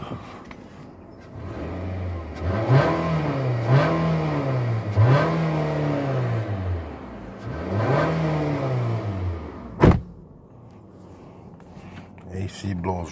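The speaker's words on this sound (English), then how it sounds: "give it a little rev." A 2018 Nissan Altima engine revs up repeatedly from inside the car, four or five rising and falling throttle blips heard close, with a sharp click near the end and a person talking in the cabin.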